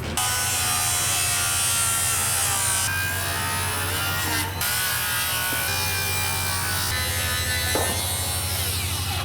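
A power saw cuts plywood wall sheathing in a steady, loud, continuous buzzing grind with slight pitch dips as the blade works through the sheet; no talking is heard.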